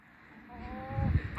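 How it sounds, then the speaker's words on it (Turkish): Poultry calls from the family's hens in a rural yard, a few soft nasal honking clucks rising over low rumbling background, fairly faint and brief with no talk. "Tavuklarımız burada. Gıt gıt gıdaklar."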